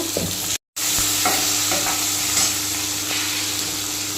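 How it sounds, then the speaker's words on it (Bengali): Vegetables frying in oil in a wok for a homemade Bengali dish, a steady close sizzle with occasional stirring clinks and a brief dropout early on, no voices. "আমি বানিয়ে রাখা সব সবজিগুলো এর মধ্যে দিয়ে দেবো, একটু ভাজা ভাজা করে নেব।"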